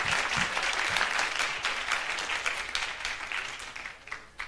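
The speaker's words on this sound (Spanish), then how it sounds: "Pido para él un fuerte aplauso." A lecture-hall audience at a Mexican history conference gives hearty applause for historian Alan Knight, many hands clapping densely for several seconds before gradually thinning out.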